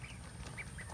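Ducks on a farm give a couple of short, faint quacks over a low background murmur, brief and somewhat distant.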